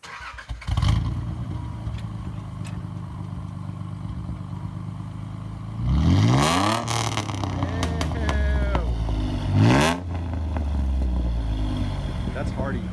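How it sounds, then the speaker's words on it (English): A Nissan Z with a replaced muffler idles with a rough, loud exhaust rumble, then revs sharply twice, each rise in pitch falling back to idle, close to the microphone. "going to replace his muffler on his Z, and this is what it sounds like now"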